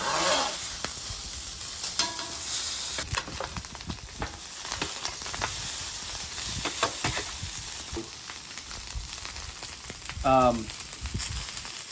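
Day-old refrigerated rice fries in high-heat cooking oil on a griddle, a steady close sizzle broken by scraping and stirring clicks, with a brief louder hiss near the end.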